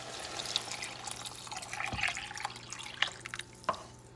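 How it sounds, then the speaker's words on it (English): Beef stock poured into a pot of Puerto Rican pigeon peas stew, a steady close liquid trickle and splash with a few sharper drips standing out, no talking. "And now it's time to add the water or the broth. I'm using stock, actually beef stock"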